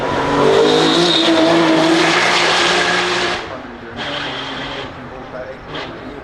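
A powerful hypercar engine roars and accelerates at high pitch for a few seconds, then cuts off, followed by quieter passes and faint voices.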